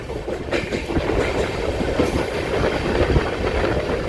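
A CSMT–Dhule Express hauled by a diesel locomotive rumbles along a curve near Sion station in Mumbai, with steady rolling roar and rhythmic clickety-clack from the wheels, heard close from on board.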